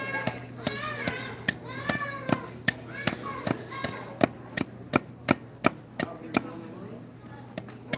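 Steady, evenly spaced sharp knocks, roughly two per second, as a bevel-edged carving tool is struck into a wooden bowl at a public mall demonstration, with children's voices and crowd chatter in the background.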